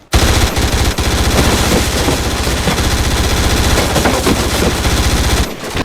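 An FN P90 submachine gun firing in a Stargate scene: a loud, sustained automatic burst of rapid, evenly spaced shots lasting several seconds before cutting off abruptly.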